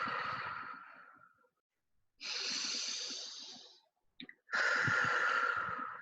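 A person takes three slow, deep breaths up close, each a long breathy rush of air that fades out, with a brief pause and a small catch between the last two.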